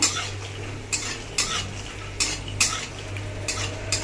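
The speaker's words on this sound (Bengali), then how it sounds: "বাদামটা আমি ভালো করে ভেজে নেবো, লাল লাল করে, যাতে কাঁচা না থাকে।" Peanuts frying in a pan are stirred, a soft steady sizzle broken by sharp scraping clinks of a spatula against the pan at irregular intervals, close with no talk.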